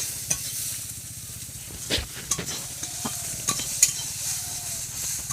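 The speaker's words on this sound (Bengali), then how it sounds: "এটা ভাজা হচ্ছে।" Spice paste frying in a pan for a village-style snail and taro-leaf curry: a continuous close sizzle with scattered scrapes and clinks as the mixture is stirred.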